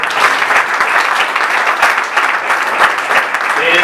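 Loud, dense applause from a crowd at a school ceremony, steady and sustained throughout with no break.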